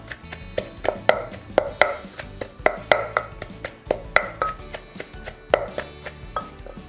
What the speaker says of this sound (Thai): เอามะเขือเทศใส่ลงไปเลยค่ะ ค่อยๆกดนะคะ ค่อยๆตำค่ะ